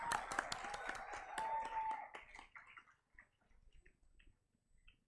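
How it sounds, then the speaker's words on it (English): Applause from a TEDx school event audience, dense clapping for about two seconds that thins into a few scattered, fading claps with quiet gaps. "Let's give him another huge round of applause."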